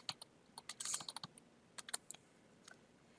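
Search terms typed on a computer keyboard, a quick burst of light, close key clicks in uneven clusters, then a short pause and a few more taps, alone without talk.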